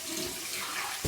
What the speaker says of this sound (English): I'm going to go ahead and do my warm water and cold water rinses.